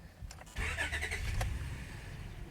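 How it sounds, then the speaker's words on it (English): A 2005–2010 Honda Odyssey minivan engine cranks briefly, then catches and settles into a steady, close running rumble, with no voices. "park the car, start it up, let it warm a little"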